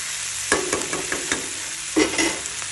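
Onions frying in a pan for a Nepali onion and tomato pickle, a close sizzle with a few sharp stirring scrapes and clicks over a couple of seconds.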